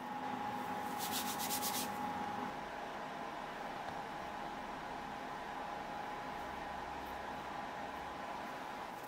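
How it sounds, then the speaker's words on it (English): A nylon brush scrubs loose powder off SLS 3D-printed nylon parts, a continuous soft rasping rub heard close with a faint machine hum underneath. "I'm using nylon brush to clean all the parts from the surrounding powder."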